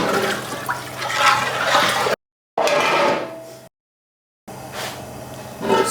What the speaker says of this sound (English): Our water is boiling.